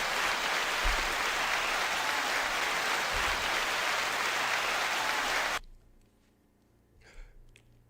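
Loud sustained applause from a festival crowd for several seconds, then it cuts off abruptly into near silence with a faint murmur.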